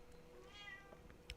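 A house cat lets out one drawn-out, quiet meow, rising then falling, faint against low room background noise.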